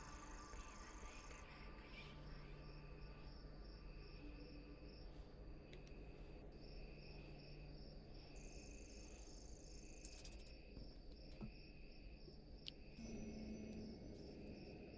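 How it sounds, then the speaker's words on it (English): Looping cricket chirps in the game Tokyo Dark, a faint steady nighttime insect trill with a repeating pattern, under quiet ambient game sound. "The looping crickets actually bothers me. Because you can hear when it loops."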